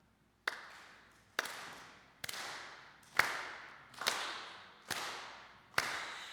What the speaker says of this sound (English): So let's start out by clapping.